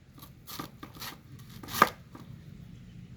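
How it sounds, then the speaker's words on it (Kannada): A knife cuts through a firm pineapple on a board, producing several separate crisp chopping strokes at an uneven pace, with one louder, sharper cut in the middle. "ಈಗ ಇದನ್ನು ಕಟ್ಟಿಂಗ್ ಮಾಡ್ಕೊಳ್ತೇನೆ"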